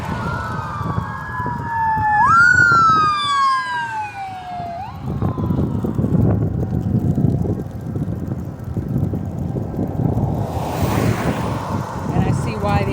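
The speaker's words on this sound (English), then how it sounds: "I see why the ambulances have to be loud, because people do not pay attention" An ambulance siren sweeps up and down as it passes, loud at first and then falling away, heard from inside a moving car over road rumble and wind.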